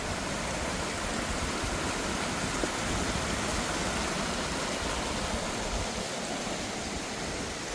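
Jakes Creek in the Great Smoky Mountains runs as a steady, broadband rush of flowing stream water, constant and fairly close, with no voices over it.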